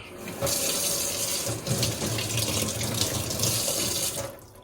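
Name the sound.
water running from a tap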